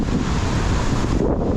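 Ocean waves surge and crash against a rocky Hawaiian shoreline, a loud, continuous broadband roar with churning wash and wind buffeting the microphone, no voices.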